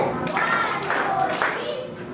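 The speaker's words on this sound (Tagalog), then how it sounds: "Bigyan mo natin ng pahusay na palakpak si JC." Classroom applause for a student named JC during a Filipino lesson, several bursts of children's clapping in uneven rhythm, moderately close, with a voice and faint chatter underneath.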